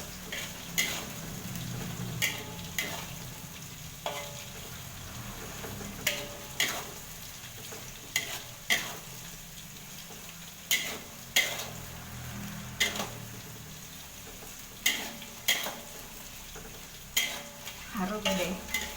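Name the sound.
crushing shrimp paste (terasi) while cooking in pan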